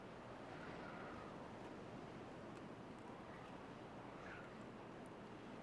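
Water flowing back into a main lake in the game Timberborn, heard as a soft, constant wash of rushing water with faint surf-like swells, steady throughout and fairly quiet, with no voices.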